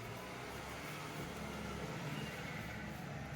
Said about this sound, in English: you get all the traffic sounds because I've got the window open